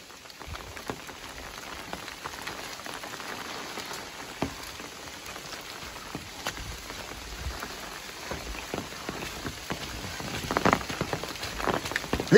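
Rain falling on a forest trail on the Appalachian Trail, a soft steady patter of drops on leaves with scattered sharper taps that thicken toward the end, with no voices.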